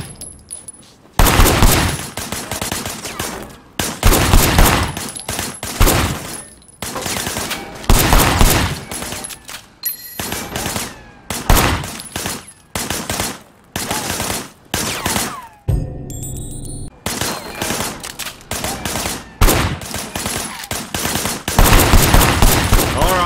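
Gunfire in Sleeping Dogs: Definitive Edition on PS4, heavy repeated bursts of shots and automatic fire, loud and close, broken by brief pauses throughout.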